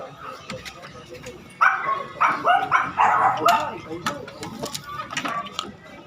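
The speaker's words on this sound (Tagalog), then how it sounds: "Yan yung aso ni Parang Nawal na hiningin niya sa akin." A dog gives a quick run of yips and whimpering barks, fairly close, with people talking around it.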